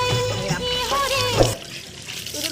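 Cold water splashing and pouring during a bath, a continuous wet rush with a brief splash burst midway, fairly close and moderately loud, alongside tonal music in the background.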